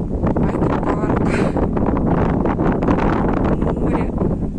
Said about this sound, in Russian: здесь, конечно, страшно стоять, здесь ветер